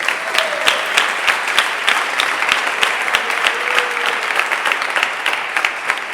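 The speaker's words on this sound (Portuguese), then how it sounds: "bater as palmas bem alegres para o Senhor Jesus" A church congregation claps joyfully in a steady, even rhythm, the many hands landing together on each beat, loud and close, with a faint sung or spoken tone drifting underneath.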